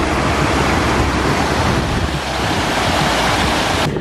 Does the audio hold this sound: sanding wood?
no